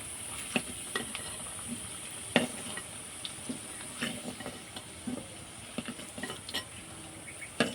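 Red-fried potato pieces for a mutton curry are lifted from a hot pan, giving scattered clinks of a utensil against the pan over a steady oil sizzle, with no talking.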